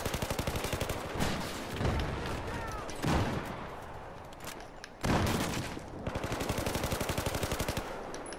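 A weapon in a team deathmatch video game fires loud, rapid automatic bursts that run nearly continuously, broken by a few heavier single blasts and brief pauses.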